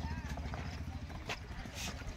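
A horse in training dances without music, its hooves clip-clopping in quick, uneven steps on hard ground while people talk over it, all fairly faint.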